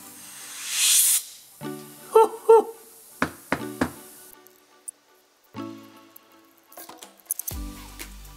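A short burst of compressed air blows soot out of a chainsaw carburetor, a brief loud hiss at the start. It is followed by close knocks and clinks of handling the parts, with brief sounds of movement.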